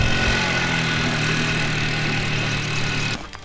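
A loud, steady drone of a Woodland Mills HM126 portable sawmill engine runs continuously up close, then cuts out abruptly near the end, leaving a faint rattle.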